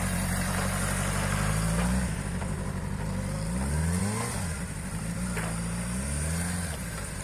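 A motorcycle engine revs and accelerates during a riding lesson, its steady mid-pitched drone rising and falling in pitch several times, close and loud throughout with no talk.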